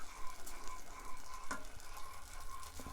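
Soy sauce, ketchup and butter stirred together in a hot pan for fried chicken breast, giving a soft continuous sizzle with light scraping as the mixture is mixed, heard alone.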